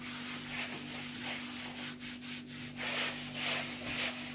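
Scrubbing grease off a metal five-burner gas cooktop with a cleaning tool gives a steady rhythmic rubbing and scraping, close and fairly quiet, with a constant low hum beneath.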